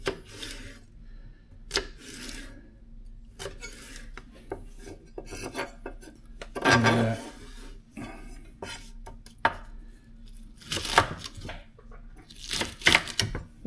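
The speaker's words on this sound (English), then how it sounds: "cut them into nice thin strips so they're proper runner beans" A knife slices runner beans into thin strips on a board, producing close, dry rasping cuts and rubbing in irregular bursts, with occasional sharper taps and a louder scrape, and no speech.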